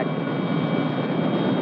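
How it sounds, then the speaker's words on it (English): A helicopter gives a steady, loud engine-and-rotor roar that holds evenly for under two seconds without voices. "isn't that your helicopter over there?"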